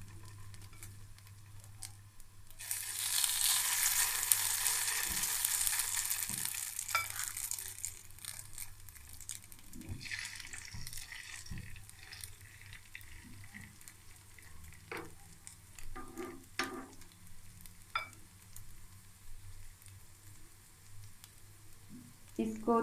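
Raw potato kebabs lowered one by one into hot oil, a bright burst of sizzling that swells loudly then settles into a quieter crackle with spoon clinks and taps, a voice talking over it.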